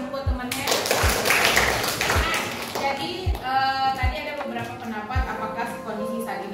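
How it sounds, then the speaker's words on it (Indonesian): Classroom applause for a student's answer, a burst of clapping from a group of students that comes up strongly near the start and fades while a teacher keeps talking over it. "Tepuk tangan dulu buat temannya."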